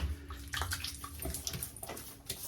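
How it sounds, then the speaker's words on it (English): Water splashing and running as a face is wetted before a shave with a Mach 3 cartridge razor, several close, uneven splashes over a steady watery wash. "let's wet the face."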